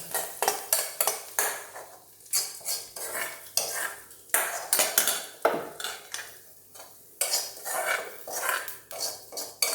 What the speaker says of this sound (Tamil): இதை நம்ம தயிர் பச்சடியில் நம்ம கலக்கிக்கிறோம்